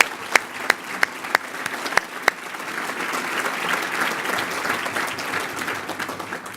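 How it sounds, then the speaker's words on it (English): A few sharp individual claps open, then a county audience at a State of the County event breaks into fuller, moderately distant applause that holds steady. "give him a big round of applause for investing in our community"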